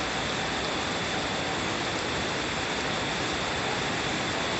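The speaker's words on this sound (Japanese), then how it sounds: "これがいわゆる大雨ってやつだね" Heavy downpour on a town street during a sudden summer rainstorm, a dense, steady roar of rain and running water that continues unbroken and loud throughout.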